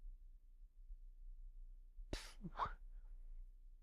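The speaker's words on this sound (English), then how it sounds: "What a time to take a sneeze." A single sharp human sneeze bursts out close by in an otherwise quiet indoor radio setting, followed by a brief softer exhale.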